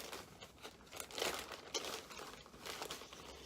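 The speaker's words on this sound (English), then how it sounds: "Stick the back, peel the back, shake it together. Shake it, shake it, shake it." Baked gluten-free apple cider donuts shaken in a bag with sugar and cinnamon: soft, continuous crinkling and rustling of the bag in quick bursts, close and fairly quiet.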